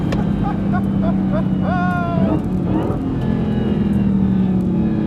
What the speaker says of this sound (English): First launch, cold tires. Everybody had trouble getting out of the hole.